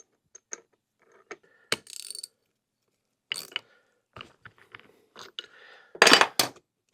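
Metal mechanisms click and clank as a gear puller draws a part off a motorcycle crankshaft, with scattered sharp ratcheting bursts and a louder cluster of clanks near the end, close by with no talk.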